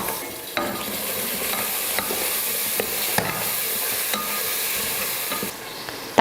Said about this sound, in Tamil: உப்பு சேர்த்துட்டு வதக்கிடலாம்